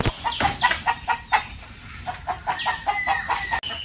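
Chickens cluck over and over inside a coop enclosed with netting on a rainy day, with short, close, fairly loud bursts coming in an uneven rhythm and no talking.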